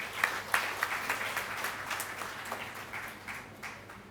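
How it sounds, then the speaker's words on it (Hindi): Applause from the audience at a ceremony for International Girl Child Day, as a retired brigadier is called up to introduce the programme. The clapping is steady and moderate, with a few sharper claps standing out near the start. "आपकी तालियों के बीच।"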